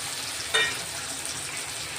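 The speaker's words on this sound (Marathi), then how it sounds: "टोमॅटो आता परतून घ्यायचे।" Chopped tomatoes sautéing in a pan over browned onions, a continuous close sizzle with a single brief stir or scrape early on, no voices.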